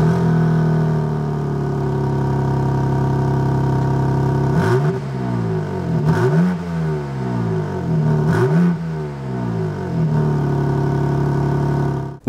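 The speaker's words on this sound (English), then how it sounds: "Next, let's start up the M4 and hear how that engine sounds." After a steady hum, the engine of a 2022 BMW M4 Competition Convertible cranks and fires up, revs sharply twice, then settles into a throaty idle close by.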